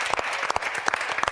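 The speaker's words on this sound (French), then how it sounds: "On peut tous applaudir." A studio audience applauds on a French televised music academy show, a steady wash of clapping close by with a few sharper individual claps cutting through.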